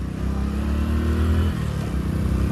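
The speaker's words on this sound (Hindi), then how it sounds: "जो बाइक है वो भी बहुत ज़्यादा पावर मांग रही है चढ़ने के लिए" A 100 cc motorcycle engine labours up a steep, broken mountain road on the Kedarnath to Badrinath route, a loud, close, steady low drone that dips briefly midway, then holds.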